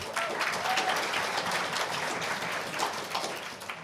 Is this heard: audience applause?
yes